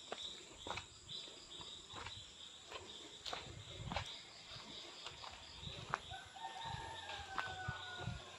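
Chickens cluck and a rooster crows faintly in the background, with scattered birdsong and soft outdoor noise throughout.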